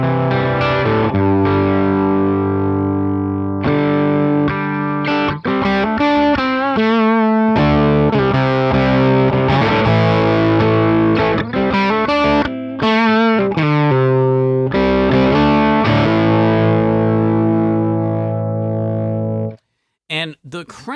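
Electric guitar played through a Menatone The King overdrive distortion pedal at low gain, loud sustained chords and riffs with a lightly clipped, dynamic tone, ending in a brief pause.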